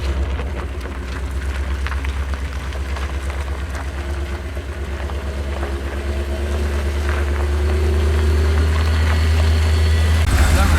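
A 2020 Ford Super Duty with the 7.3L gas engine rumbles at low pitch as it turns a tight donut, its steady engine drone close and swelling louder toward the end, with a faint voice briefly audible.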